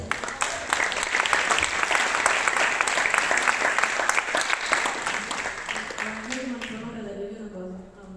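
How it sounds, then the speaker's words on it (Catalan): A crowd at a graduation ceremony applauds a graduate in sustained, even clapping that fades out near the end, as a voice starts speaking faintly over the last moments. "aplaudiment per ella, sisplau"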